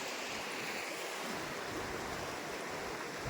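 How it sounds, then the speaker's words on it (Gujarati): Sea waves at Dwarka wash back in over the exposed shore with a steady, broad roar, close by and unbroken, mixed with some wind noise and no voices. "ફાઇનલી આપણે અત્યારે દરિયાની વચ્ચે ઊભા છીએ. જોઈ લો તમે, પાણી વયું ગયું છે. હવે ધીમે ધીમે આવતું થયું છે."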